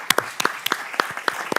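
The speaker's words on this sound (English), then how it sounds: "let's give him and these young guys a round of applause" Scattered claps from a small audience at a city council meeting, with about a dozen sharp, separate hand claps in uneven rhythm, sparse rather than a full ovation, and fairly close.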